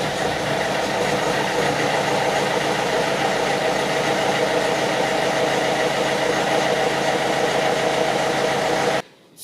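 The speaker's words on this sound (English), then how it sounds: "It's almost like a misfire, a few shakes, and a puff of bluish smoke that clears within 10 seconds or so." A Peugeot/Citroen 1.6 HDi diesel engine idles roughly with a steady close rumble and an uneven, shaking pulse like a misfire, cutting off abruptly at the end.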